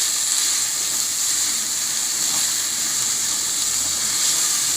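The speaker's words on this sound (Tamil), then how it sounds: "கடலைப்பருப்பு உளுந்தம்பருப்பு எல்லாம் போட்டு வதக்கி வச்சு" Chana dal, urad dal and chilies sautéing in a pan for curry leaf chutney, a steady close hiss and sizzle of oil that runs evenly throughout with no talking.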